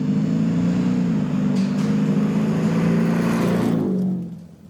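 A Ford F-150 Raptor R's 5.2 liter supercharged V8 runs with a loud, steady low rumble that holds evenly, then drops away and fades near the end, with no voices.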